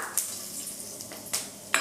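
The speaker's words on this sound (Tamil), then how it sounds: "பட்டை கிராம்பு ஏலக்காய் பிரியாணி இலை கல்பாசி எல்லாமே நல்லா பொரிய ஆரம்பிச்சிருச்சு" Soft crackling sizzle of cinnamon, cloves, cardamom, bay leaf and black stone flower frying in hot oil, steady and close, with a few sharp clinks of a utensil against the pan.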